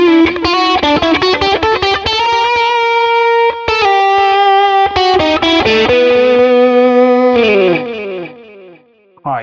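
An electric guitar plays a distorted lead line with sustained, singing notes and quick runs through a Tone King Imperial MKII amp modeled by Neural DSP, loud and alone, ending in a falling bend.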